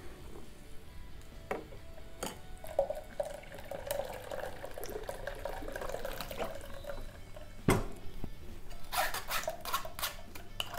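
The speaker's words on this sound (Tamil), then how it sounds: "இப்போ இதுலேயே கொஞ்சம் தண்ணி ஊற்றுனீங்கன்னா இன்னும் கொஞ்சம் சக்கை குறைஞ்சிடுங்க." Water is poured into strained tomato pulp for South Indian tomato rasam, a soft steady trickle and splash with a few sharp clicks of utensils, heard faint and close with no talking.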